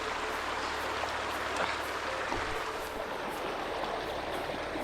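Mountain creek flowing past icy logs on the Alice Toxaway Loop trail, a steady, close rushing and babbling of water with no voices.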